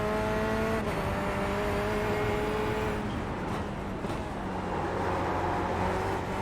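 A Corvette C8 race car driven in the iRacing simulator, its engine droning loud and steady with rising and falling pitch as it accelerates and shifts, a continuous close engine roar throughout.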